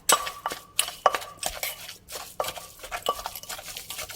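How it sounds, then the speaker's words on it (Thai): Ingredients for a steamed chicken-carcass dish are pounded and mixed in a mortar, giving a quick, irregular run of sharp knocks and clinks close by. "ตำผสมรวมกันในครกค่ะ"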